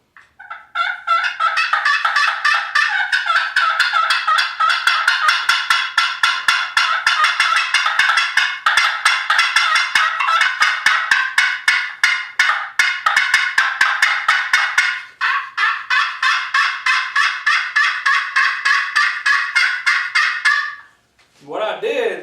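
Hunters work turkey calls imitating hen yelps and cutting, a long, loud, near sequence of rapid rhythmic calls running nearly continuously with a brief pause before a final burst, no talk over it.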